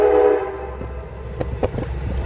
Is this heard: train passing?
yes